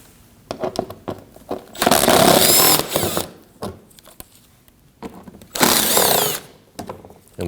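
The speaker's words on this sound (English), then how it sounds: "We'll remove these 2 5mm screws here on the outer edge of the front bumper." A power tool on the lower panel of a 2015-2024 Ford Edge 2.0L front bumper whirs loudly in two separate bursts, each about a second long, as it backs out 5mm screws, with quieter handling clicks between.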